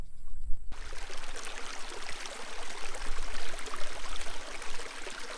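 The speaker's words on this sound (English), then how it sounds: "Can you guys hear that water?" Water flows steadily with a continuous rushing, bubbling wash, fairly close and unbroken throughout, beside a boardwalk at Kings Pool in Ash Meadows National Wildlife Refuge.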